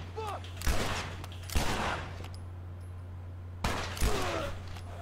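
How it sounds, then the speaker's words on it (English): Gunfire in the video game The Last of Us, heard as several sharp shots spaced across a few seconds over a steady low hum and background game sounds. "Shooting."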